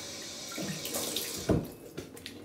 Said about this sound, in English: Cold water on the face.